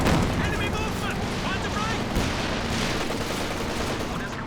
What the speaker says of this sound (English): Another walking Stuka barrage onto the VP area.